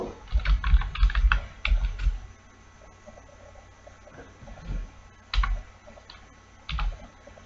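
Bursts of C code being typed on a computer keyboard, clustered clicking keystrokes in short runs with pauses between, fairly close and moderately quiet.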